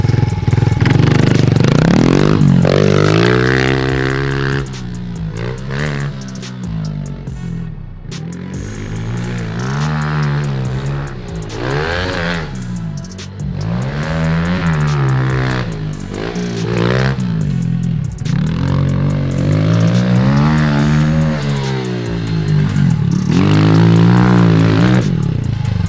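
A fully built pit bike revs hard around a backyard dirt track, loud and close, its engine repeatedly climbing and dropping in pitch as the throttle blips and sputters through ruts and a small jump.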